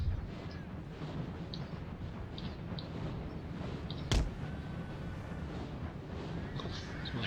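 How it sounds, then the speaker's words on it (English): Musket volleys and artillery fire from the video game Napoleon Total War make a dense, continuous rumble of distant gunfire. One sharp, louder report stands out partway through, and no one speaks. "Doing some volleys."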